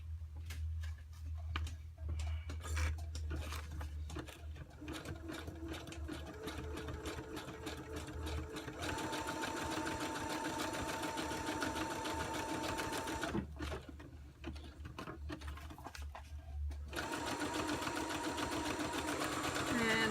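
A sewing machine sews ribbon onto a notebook insert, running steadily with a rapid mechanical whir and clatter, briefly slowing to a lower hum before stitching again, with faint talk in the background.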